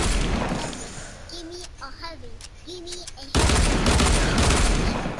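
Rapid gunfire from a video game, shooting enemies down, roars in a dense, loud burst over the last two seconds, after a stretch of quieter game noise and brief voices.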